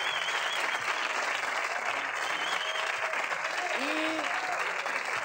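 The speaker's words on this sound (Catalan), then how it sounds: "fem un aplaudiment de simpatia a les fantàstiques pintores que se les emporten" Studio audience applause for the painters on the Catalan TV3 show "Això és massa", a continuous, even wash of clapping throughout, with faint voices underneath.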